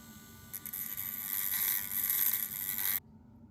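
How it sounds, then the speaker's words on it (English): Dremel rotary tool with a round bit grinding a burr off the axle of a die-cast Matchbox Commer van, a thin high whine running steadily for about two and a half seconds and then cutting off abruptly. "we have to grind down that burr on the outside of the axle so that the tire will slide off. So using the round Dremel bit"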